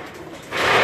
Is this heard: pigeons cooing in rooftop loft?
yes